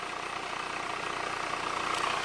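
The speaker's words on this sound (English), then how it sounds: "go to the front of the engine and listen to how the engine purrs" Used car engine idling smoothly after a cold start, a steady mid-pitched hum heard close by with no talk, even and unbroken throughout.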